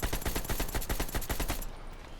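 Rapid automatic assault rifle fire from the Call of Duty Warzone video game rattles in a dense, loud, continuous burst for about a second and a half, then cuts off abruptly.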